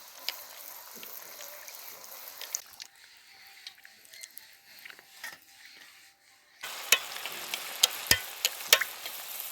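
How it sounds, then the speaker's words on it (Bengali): Malpua puffing up as they deep-fry in hot oil: a low bubbling sizzle that swells much louder near the end, with scattered crackles and pops. "এইভাবে করে আমি মালপোয়াগুলো সবগুলো ভেজে নেব"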